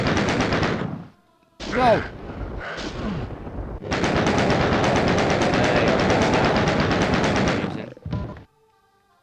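Machine gun fire in the video game Doom rattles out loudly in rapid sustained bursts, with short breaks and one long continuous stretch before a brief final burst, with a single shouted word early on.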